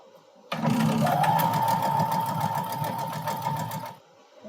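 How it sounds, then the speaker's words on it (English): A sewing machine stitches quilt pieces together in one steady, loud, continuous run of rapid needle hum lasting about three and a half seconds, then stops. "I'm going to go ahead and sew these up together"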